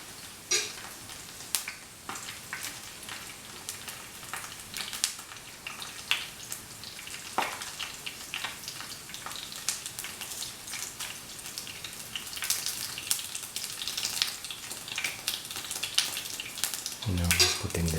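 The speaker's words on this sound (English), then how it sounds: "Put in the fennel seeds and black pepper into the oil and other spices." Fennel seeds, black pepper and dry chili sizzling in hot oil for a mushroom masala, giving a faint, steady crackle scattered with small pops that grows slightly louder toward the end.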